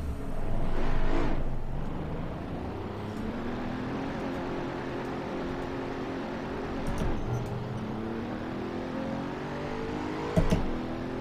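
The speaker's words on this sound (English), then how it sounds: "So a surprisingly tame sounding engine, but there's nothing tame about that performance." A racing car engine drones in Assetto Corsa at Monza, a Maserati Alfieri or Pagani Huayra BC running at high speed, with a sustained mechanical roar, shifting harmonic pitch and a brief sharp burst near the end.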